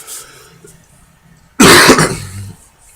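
One sharp, loud cough bursts out close to the microphone after a near-silent stretch, with a short throaty tail as it fades.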